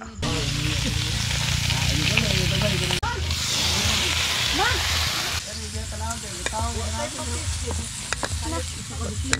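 Lumpia spring rolls frying in a pan give a steady, loud sizzle and crackle throughout, with people talking over it and some clinks and stirring noises.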